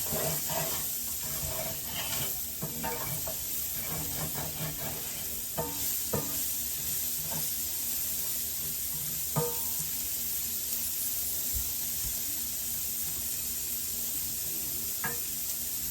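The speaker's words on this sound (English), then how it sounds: "We're going to get this started and sauteing down just a little bit." Ingredients sautéing in a pan for a weeknight dinner: a steady, dense sizzle with occasional scraping and stirring clicks, loud and continuous, no talking.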